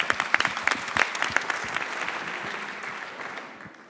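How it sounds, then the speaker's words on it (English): Conference audience applauds a startup pitch at a innovation contest event, a dense patter of many hands clapping that starts fairly loud and gradually fades over a few seconds, with no talk over it. "So a great applause for Adam for the last pitch."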